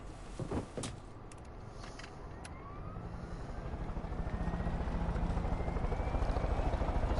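In the open-world game Far Cry 5 a helicopter starts up, with a few clicks and thumps at first, then a rotor drone that steadily rises in loudness and pulse rate until it is pounding strongly.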